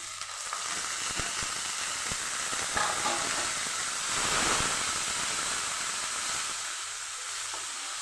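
Spinach sautéing in hot oil with ginger-chilli paste, a steady close sizzle and hiss with occasional stirring scrapes, alone without voices.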